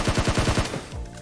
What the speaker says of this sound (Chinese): 你的这个枪声怎么好像有点慢？